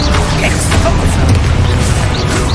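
An Expulso spell explosion in Hogwarts Legacy bursts out as a loud, close boom with a crashing, rumbling tail lasting a couple of seconds.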